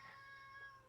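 A pet cat meows faintly indoors, a single drawn-out, slightly wavering cry heard alone at low volume.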